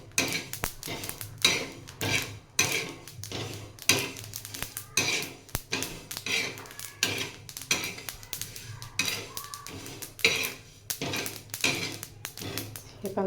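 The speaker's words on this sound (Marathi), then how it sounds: "गॅस बंद करायचा आणि गरम तव्यावरच थोडे असे भाजून द्यायचे" Niger seeds are dry-roasted on a hot griddle with the gas turned off, giving a steady run of rhythmic metallic scraping and clinking strokes that repeat about once a second, close and fairly clear.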